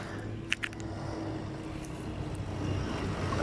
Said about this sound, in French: Ah bah attention, Tabata, c'est un tracteur cette fois